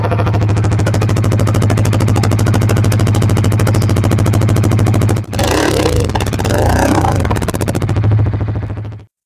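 A Bajaj Pulsar NS200 motorcycle's underbelly exhaust idles with a steady, loud, rapid pulsing throb, then revs sharply in a couple of bursts before cutting off.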